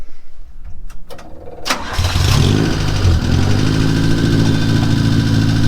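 A Porsche 550 Spyder kit car engine cranks with a few clicks, catches and fires up loud, then settles into a steady close rumbling idle.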